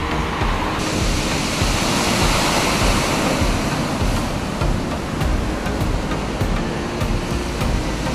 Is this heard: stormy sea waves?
yes